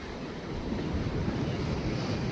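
Sea waves wash onto Radhanagar beach on Havelock, a broad steady surf roar mixed with wind buffeting the microphone, close and continuous with no talk.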